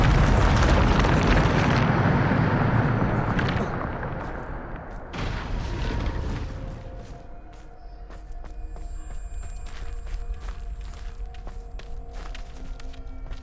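Bombarda spell blasting in Hogwarts Legacy: a loud, rumbling explosion at the start that fades out, then a second, smaller boom a few seconds later, with crackling debris and scattered clicks trailing after.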